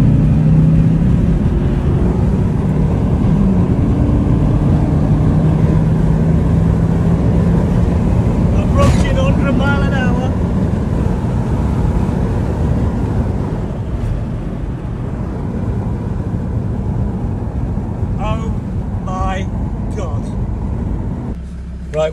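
A 250 BHP TDI car with a power kit drives on the road, its engine droning steadily and low under heavy wind and road noise for the whole stretch, with a few faint voices briefly breaking through.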